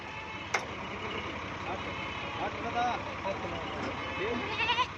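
Goats bleat sporadically as they are loaded onto a cargo truck, the cries faint and partly masked by steady background noise and a voice talking.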